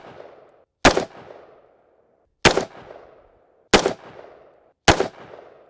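Four sharp gunshots ring out from an extremely short AR-15 rifle with a one-inch rifled barrel, spaced a second or so apart, each a loud crack with a brief decaying echo.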